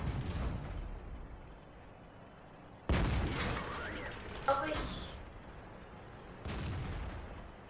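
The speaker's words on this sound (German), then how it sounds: "Ich hab da drauf geschossen." Tank cannon shots in the World of Tanks video game, several sharp heavy booms at intervals with rumbling decay, heard among game noise while players talk over it.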